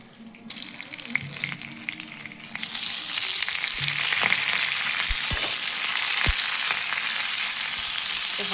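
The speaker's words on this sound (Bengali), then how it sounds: "আমি এখানে সামান্য তেল দিয়ে একটা কাঁচা লঙ্কা আর কালো জিরা দিয়ে হালকা করে একটু ভেজে নেব মেথি শাকগুলোকে" Fenugreek greens fry in a little oil with a green chilli and nigella seeds, giving a loud, steady sizzle that builds after a quieter start, with a few clinks of stirring near the pan.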